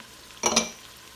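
Chopped bell pepper with yellow and red onion stirred in a frying pan: one quick scraping stir bursts over a faint background sizzle, close and brief.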